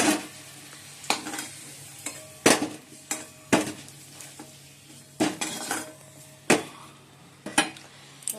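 Fried potatoes lifted from a pan of hot oil, sharp metal spoon clinks and scrapes against the pan recurring irregularly over a continuous quiet sizzle, close by.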